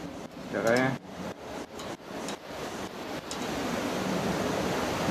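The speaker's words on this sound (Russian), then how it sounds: "Ветер, конечно, ужасный." Strong wind blows into a foam-covered microphone outdoors during assembly of a Makita DEAWST05 mitre saw stand, a rough broadband rumble that builds into a steady roar, with a voice briefly heard early on.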